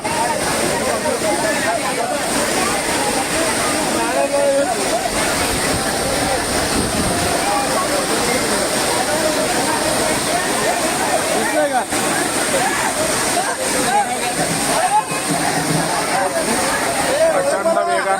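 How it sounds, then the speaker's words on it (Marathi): Famous Amboli waterfall roaring continuously throughout, a dense steady rush of falling water with people talking faintly beneath it. "आंबोलीचा सुप्रसिद्ध धबधबा"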